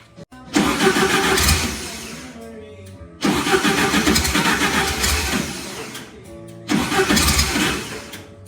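A 1958 VW bus engine cranks and catches three times, each start rising into a loud, rough mid-pitched running clatter close by, run on an external fuel reservoir.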